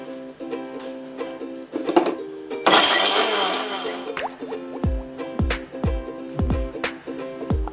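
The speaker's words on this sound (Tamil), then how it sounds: "இதை போட்டு ஒரு திரும்ப நான் சுற்றிக்கிறேன்." A mixer grinder whirs in one loud burst of about a second and a half as it grinds dried fish sambal. Quieter clinks, taps and drips come before and after it.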